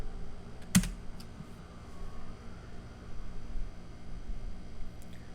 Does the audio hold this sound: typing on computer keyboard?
yes